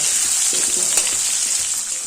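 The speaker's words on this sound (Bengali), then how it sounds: "আলুগুলোকে লাল লাল করে ভেজে নেব" Small halved new potatoes fry in oil over a medium gas flame, a continuous close sizzle with light stirring clicks and no voices.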